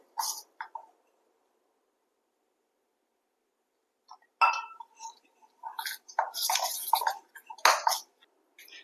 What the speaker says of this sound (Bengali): অল্প অল্প জল দিয়ে আমি ব্যাটারটাকে তৈরি করবো